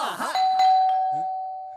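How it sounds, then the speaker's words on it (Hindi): A doorbell chimes once, its bright tone ringing out and slowly fading, with a brief voice heard just before it. "घंटी बजी।"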